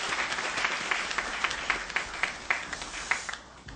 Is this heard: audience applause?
yes